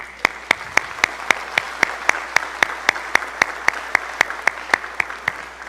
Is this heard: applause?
yes